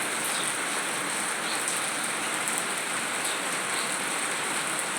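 Heavy rain falls in a constant, loud, unbroken wash of hiss during Krishna Ashtami, with no voices.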